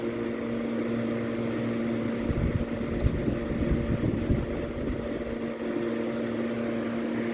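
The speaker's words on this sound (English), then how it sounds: "I'm going to start the fan up now on high with the louver turned on" An International RAKS BF-12RO rotating-grille box fan running on high with the louver on gives a steady, close whooshing drone with a constant motor hum and a slightly louder rush in the middle, with no talking.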